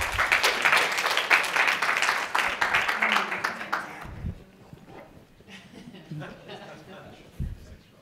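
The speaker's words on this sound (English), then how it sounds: "Please give Rebecca a round of applause." An audience applauds a speaker at a talk, loud clapping for about four seconds that then thins to scattered claps and quiet room noise.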